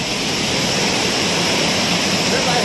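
Rushing water at Amboli waterfall in the Konkan, a steady, loud broadband roar that fills the whole stretch without a break, close and continuous with no voices over it.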